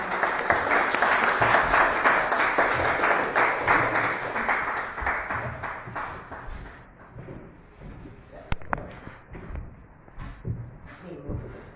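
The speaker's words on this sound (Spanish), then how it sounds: "Más fuerte el aplauso" An audience at a Chilean magazine cover event applauds, dense and fairly loud clapping for several seconds that thins out into scattered claps, with one sharp knock partway through as the applause fades.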